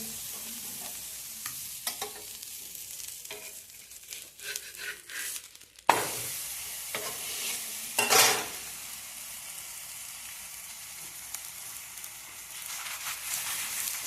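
Soya badi paratha cooking on a hot pan with malai spread on it, giving a steady close sizzle with scraping and stirring clatter and a sharp knock partway through, no voices.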